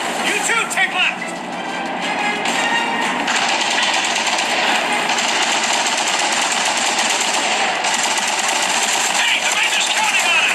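Rapid mechanical rattling of a machine gun nest firing in Gears of War played on an iPhone 14, steady and continuous at high level beneath in-game dialogue.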